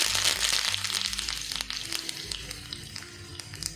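Curry leaves sizzle and spit in hot oil with cumin and mustard seeds for a tadka over kadhi, the gas switched off; a steady close crackling fry with sharp pops throughout.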